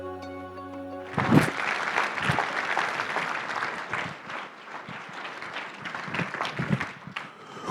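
A brief held musical tone gives way to a big round of applause at an evening charity gala, dense clapping from a large audience that swells, then rises and falls unevenly until the end.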